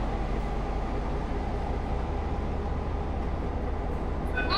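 Passenger train at a station in Taiwan on the Taipei to Hualien line, giving a loud, steady low rumble with broadband rolling noise throughout and no voices.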